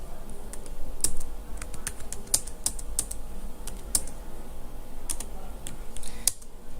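Fingers type on a computer keyboard while entering data in jewellery management software: rapid, irregular clicks and clacks up close, with short pauses between bursts.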